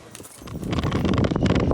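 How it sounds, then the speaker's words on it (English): A ridden horse's hooves clip-clop loud and close in quick, steady rhythm, building in strength after the first moment. "Get ready with me to ride my horse."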